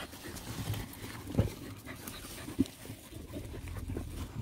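Dog panting outdoors during a hunt, steady breathy rhythm with a couple of sharper knocks, moderately close and fairly quiet.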